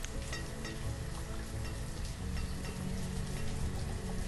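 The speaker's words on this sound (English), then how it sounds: "It just starts raining every time." Steady rain hiss from the video game Banished, a dense crackling patter holding at an even level throughout with no voices.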